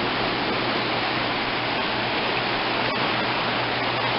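Water from a controlled release at Lake Whitney Dam on the Brazos River in Texas rushes in a steady, loud, continuous roar, with no break and no voices.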